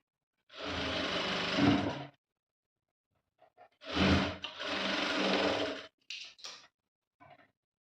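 A sewing machine top-stitching a dress top runs in a short burst, pauses, then runs in a longer steady whir before a few brief stops and starts. It is close and clear, with no voices.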